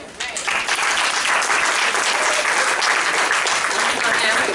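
An audience breaks into steady, dense applause at a community dialogue event between police officers and residents, loud and sustained throughout.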